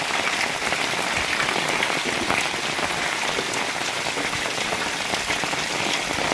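Heavy unseasonal rain pours down in Shedhakhai village, Bhanvad taluka, Devbhumi Dwarka, a dense, loud, continuous hiss of drops striking surfaces close by with no pauses.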